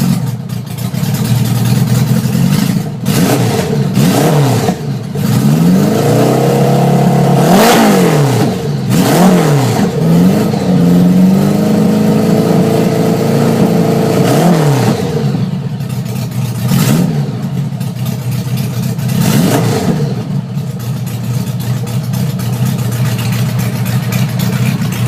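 A cold 1976 Honda Goldwing motorcycle engine fitted with small mufflers on adapters, revving up and down repeatedly in loud rising and falling sweeps over a steady close idle, with no voices.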